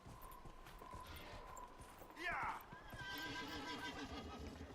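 A horse whinnies in Dragon Age Inquisition, with one short, bright neigh about halfway through over steady game background sound and hoof clatter. No voice carries it.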